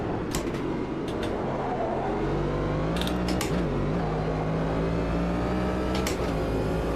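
Race car in the Automobilista 2 sim racing game, a downforce-style machine unlike GT cars, driving steadily with a sustained engine tone that rises and shifts in pitch, with brief clicks at intervals.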